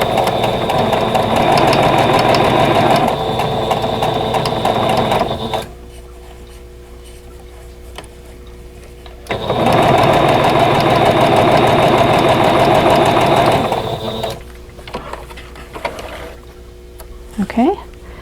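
A sewing machine stitches quilt block pieces together for a vintage Snail's Trail block, whirring close and steady in two bursts of several seconds each, with quiet pauses and light handling sounds between them.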